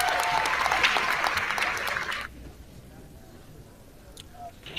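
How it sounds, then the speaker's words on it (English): Applause for a nine-ball pool shot at the WBCA 9 Ball 2024 tournament, a crowd clapping steadily for about two seconds before it cuts off abruptly into quiet room tone. "Let's give him a round of applause for that"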